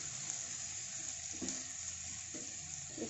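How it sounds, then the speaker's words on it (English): Bottle gourd and bamboo shoot manchurian pieces frying in hot oil, giving a steady close sizzle with a few soft clinks and stirring scrapes, no voices. "Let it fry for some time."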